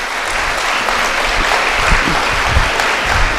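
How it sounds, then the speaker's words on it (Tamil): A large audience at a Tamil public speech breaks into sustained, dense clapping, a steady wash of applause holding for the whole stretch without letting up. "இங்கே உள்ள ஆண்களுக்கு ஒரு பெரிய கைத்தட்டல் கொடுங்க"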